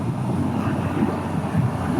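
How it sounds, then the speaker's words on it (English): Strong wind buffets and roars against the microphone while riding a Honda CB500X motorcycle, a steady low rumbling gust that fills the whole moment. "Windy."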